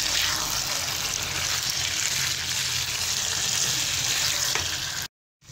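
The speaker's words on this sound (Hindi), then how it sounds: "पास्ता ऐड करने के बाद अब इसे अच्छे से मिक्स कर लेंगे।" Boiled macaroni pasta with chicken and vegetables is stirred in a hot frying pan, producing steady sizzling and scraping for about five seconds before cutting to silence.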